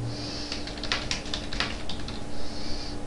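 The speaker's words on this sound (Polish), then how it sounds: "Wpisujemy link wp.pl" Typing on a computer keyboard while entering a web link into a WordPress blog editor, a steady run of close, crisp key clicks with a few louder strikes and no talking.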